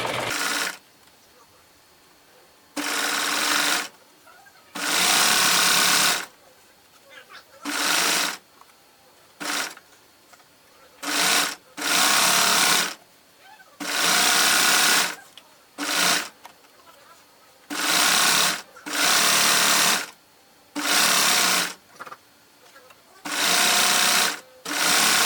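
A sewing machine stitches elastic onto bra fabric in repeated bursts of fast, steady whirring, each a few seconds long, separated by short quiet pauses, close and clear.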